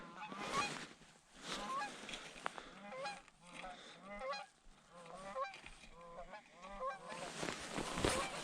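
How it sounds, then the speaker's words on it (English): A flock of geese honks repeatedly on a winter morning by a river, overlapping calls in an irregular chorus, moderately distant and shifting as the birds pass, with no talk. "there goes a bunch of geese this morning."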